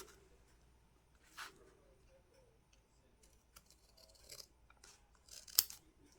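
Scissors snip a castle shape out of a sticker sheet at a crafting desk, a few quiet, scattered cuts with soft rustling and one sharper snip near the end, close and faint with no talk.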